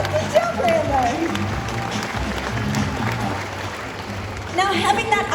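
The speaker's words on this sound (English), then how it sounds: "if he does get this right, do give him a big round of applause" Audience applause at a Sea World Gold Coast seal show, a broad outdoor crowd patter lasting throughout with voices and cheers mixed in, swelling slightly near the end.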